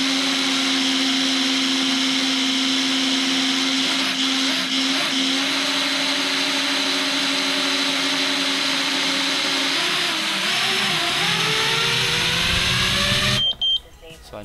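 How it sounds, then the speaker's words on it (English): FPV quadcopter motors, soft-mounted on all four arms, run during a vibration and oscillation test, giving a steady loud electric whine with layered harmonics that shifts in pitch near the end before stopping abruptly. "I went ahead and retested it to check for oscillations and vibrations here"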